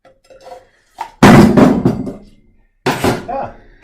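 A whole coconut struck hard with a blade and cracked open, giving a few sharp, loud whacks with a thudding crack, a quiet gap, then another heavy blow, all close up.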